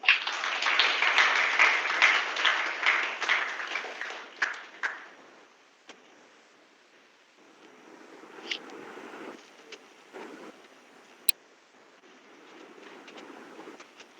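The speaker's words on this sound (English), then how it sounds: "Can we have a huge round of applause?" Applause from a conference audience at an inaugural program, loud and dense for the first few seconds, then thinning to scattered claps and a quieter room with faint background noise.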